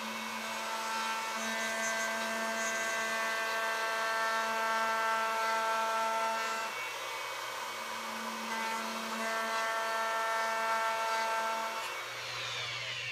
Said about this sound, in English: now I'm going to put a chamfer right on the side.